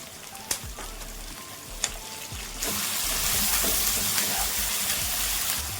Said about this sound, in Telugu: ఇప్పుడు ఇందులో టమాటాలండి, నేను 3 టమాటాలు తీసుకున్నాను. ఈ టమాటాలు వేసేద్దాం.